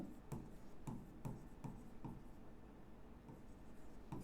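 Chalk or marker writing on a board during an accounts lesson, soft rhythmic strokes and taps repeating steadily, faint and close with no talk.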